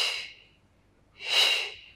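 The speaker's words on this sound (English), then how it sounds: "inhale" A single audible inhalation during a Pilates mat workout, a breathy airy rush that swells and fades, following a softer exhale, close and with no talk over it.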